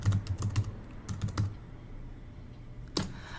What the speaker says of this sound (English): See, I can't talk and type at the same time.